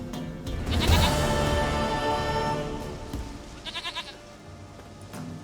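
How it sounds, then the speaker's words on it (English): A goat in The Witcher 3 bleats loudly and repeatedly in a wavering, quavering call, alone and close by with a few quieter ambient game sounds in between. "Goat of mine, dearest,"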